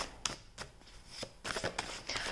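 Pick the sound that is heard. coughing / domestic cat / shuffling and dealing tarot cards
shuffling and dealing tarot cards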